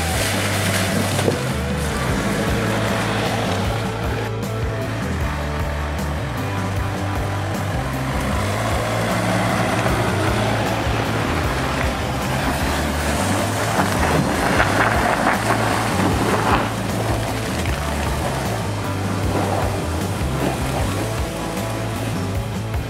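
A Land Rover Freelander 2 in its mud and ruts terrain setting pushes across slippery muddy ground. A loud, continuous engine roar is mixed with rumble and wind buffeting on the microphone, with no talking.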